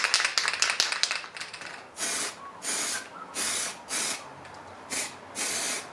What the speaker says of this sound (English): using some aerosol stuff